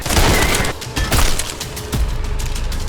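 A gunfight in the video game Trepang2, with loud, rapid close-range gunfire in quick bursts, impacts cracking between the volleys.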